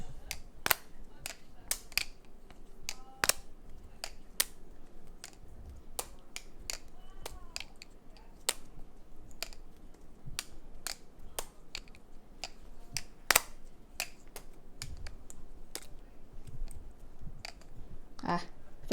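A silenced Squiddy G balisong knife being flipped, giving a steady stream of quiet, crisp clicks and soft ticks at an irregular, fast rhythm over faint background hiss.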